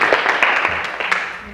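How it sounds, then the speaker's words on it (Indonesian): Brief burst of applause for a student in a classroom, a group of people clapping together at close range, dense and fairly loud, lasting just over a second. "berikan aplaus dulu untuk Lenora"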